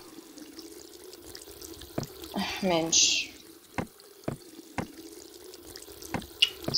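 A tap runs briefly in the video game The Kite, a short splashing gush of water amid scattered quiet clicks and drips, with a man muttering nearby.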